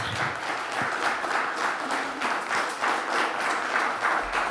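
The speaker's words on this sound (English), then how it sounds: "Give a round of applause." An audience applauds at a breaking event as performers are called up, with a lively, steady clapping texture and small surges, close and fairly loud, with no talking over it.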